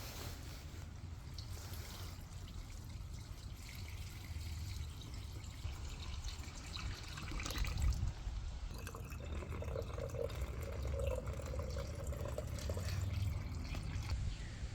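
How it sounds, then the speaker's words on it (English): Distilled water pours steadily into the radiator of a 2015 Chevrolet Camaro LT RS during a coolant flush, a faint, continuous low gurgling rush that keeps going for several seconds without talk. "fill our system with distilled water."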